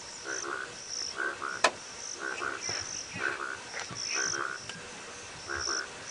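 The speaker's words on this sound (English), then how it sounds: "you actually should be able to hear the sound of the bullfrogs croaking away" Bullfrogs croak in repeated rhythmic bursts with insects chirring in the background, one sharp click cutting through; no talking.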